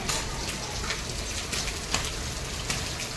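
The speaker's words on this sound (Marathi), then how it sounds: "पाऊस बघा किती पडतो" Heavy rain falls steadily, a dense even hiss of drops spattering on surfaces close by with no voices.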